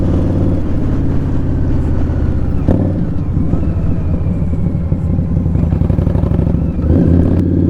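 An Indian Scout Bobber motorcycle rides along UK roads, its V-twin engine rumbling loud and steady up close with small shifts in pitch as the throttle changes, no voices heard.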